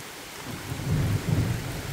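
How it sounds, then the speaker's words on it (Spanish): Rain pours steadily during a river flood, with a low rolling rumble like distant thunder swelling in the middle, a dense continuous wash with no voices. "La lluvia"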